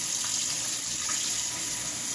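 Cold tap water runs steadily into a bowl in a kitchen sink while making salsa for canning, a continuous close hiss of flowing water with no talk.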